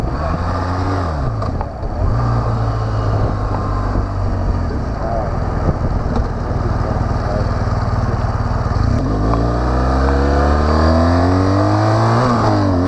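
A BMW R1200GS motorcycle engine on a test ride pulls smoothly through its gears, rising drone climbing and dropping with each shift, loud and close over wind noise, with a rider's voice intermittently audible.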